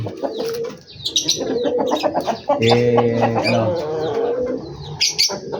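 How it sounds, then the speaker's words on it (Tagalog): Chickens clucking in a backyard where pigeons, chickens and chicks are kept: close, loud, repeated throaty clucks and a longer, harmonic, drawn-out call, with other bird calls mixed in. "meron isang manok natin na nandyan"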